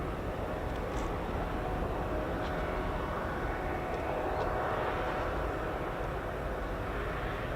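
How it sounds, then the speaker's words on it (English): An Italian Air Force Casa 295 arriving at RAF Fairford gives off a steady, broad engine roar that holds evenly at moderate distance, with faint higher whines drifting in and out. "Casa 295 of the Italian Air Force"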